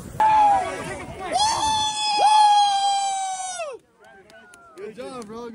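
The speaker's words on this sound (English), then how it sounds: "Start screaming." Screaming at a football game in Kansas: a sustained, loud, high-pitched shriek held for a couple of seconds, then quieter babble and shorter cries, close by with crowd noise behind.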